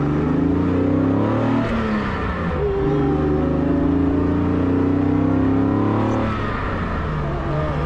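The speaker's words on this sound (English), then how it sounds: "So you have to drive really fast and rev it, I guess." Mercedes 300SL roadster engine heard from inside while driving, loud and close, with a continuous throaty drone that climbs in pitch as it revs up, eases between gear changes, then rises again.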